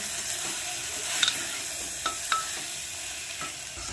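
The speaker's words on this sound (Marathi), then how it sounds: "बघू शकता मस्त असं मी परतून घेतलेलं आहे." Rice and mung lentils sizzle steadily in a pan while a spoon stirs and scrapes now and then, giving a few sharp clinks over the constant frying hiss.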